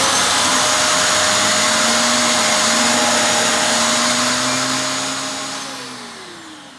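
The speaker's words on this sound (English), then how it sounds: "Let's switch on the vacuum, see if this rotates at a speed." A Vax VX3 upright vacuum cleaner's motor and brush run loud and steady with a whining hum, then wind down as it's switched off near the end.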